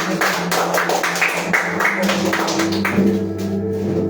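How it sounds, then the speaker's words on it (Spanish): A church congregation claps hands in rhythmic, repeated bursts that blend with music and voices in the background. "Dale fuerte palmas a Dios."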